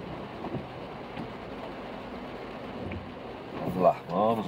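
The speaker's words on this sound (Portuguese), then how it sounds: "Olha a chuva aumentando" Heavy rain pours onto a town street in Mogi Guaçu, São Paulo, a steady dense hiss with low rumble. A voice begins talking near the end.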